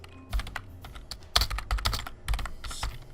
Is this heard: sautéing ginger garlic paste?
no